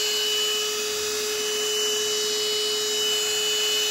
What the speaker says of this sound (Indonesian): Ini kecepatan rendah, suaranya seperti ini.